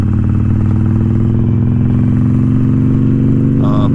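An Iron 1200 motorcycle engine runs loud and close, holding a steady throbbing drone with a slight rise in pitch, and a brief clatter comes near the end.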